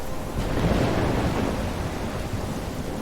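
Heavy rain and rolling thunder roar through a storm in Life is Strange Remastered, a dense, loud wash with a low rumble swelling early and then easing.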